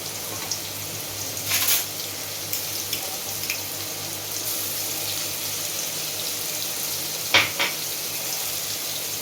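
Chilli paste sizzles in a hot pan over lowered gas with fried potatoes, cooking for a vegetarian banana-flower dish; a steady frying hiss with a couple of brief louder splutters, no talk.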